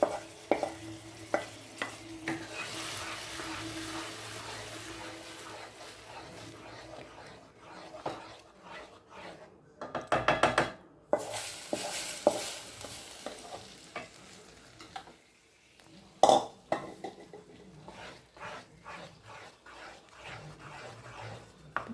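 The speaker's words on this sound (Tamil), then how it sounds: "இந்த பாத்திரத்தில் ஒட்டக்கூடாது, அந்த அளவுக்கு நம்ம நல்லா கிண்டி எடுத்துக்கலாம்" Wheat halwa is stirred in a pan with a soft continuous sizzle underneath and intermittent scraping, clinking spoon strokes against the vessel, with a few louder knocks partway through.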